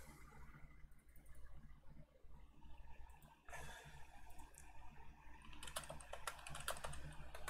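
Someone types a terminal command on a computer keyboard of a Linux Mint machine. Soft, scattered key clicks grow into denser bursts, heard close over a steady background hum with no voices.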